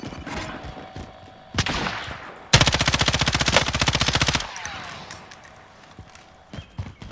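Rapid automatic gunfire from a Call of Duty Warzone battle royale match, a loud sustained burst of dense shots with single shots and game effects before and after.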